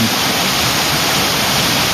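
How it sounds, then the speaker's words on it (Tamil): Rushing water pours in a dense, steady roar close by from a mountain waterfall in the Agasthyamalai hills, like a waterfall, with no pauses or voices. "இந்த ஃபால்ஸ் தெரியுதா உங்களுக்கு?"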